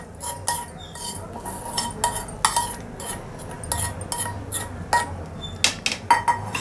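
Cooked vegetables scraped from a pan into egg batter for egg bites, giving a run of close metallic clinks and scrapes of a spoon against cookware, irregular and moderately loud with no talking.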